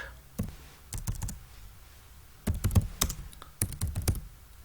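Keys on a computer keyboard are tapped in irregular clusters of clicks and soft thunks, close up and fairly quiet, with no one talking.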